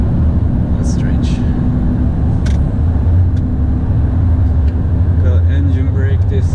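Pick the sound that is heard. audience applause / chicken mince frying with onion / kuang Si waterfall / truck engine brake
truck engine brake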